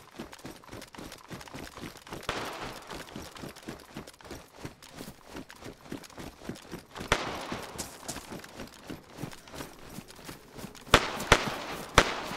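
Distant gunfire in the survival game DayZ around an airfield fire station, sounding as scattered sharp cracks over a steady rhythmic patter, with a tight cluster of louder shots near the end.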